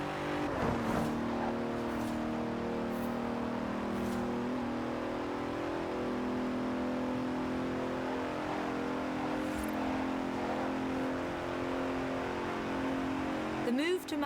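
A Bentley Continental Supersport engine in the racing game Forza Horizon 4 drones steadily at high revs with a sustained tonal whine and brief rev changes, loud and continuous, with a person talking over it.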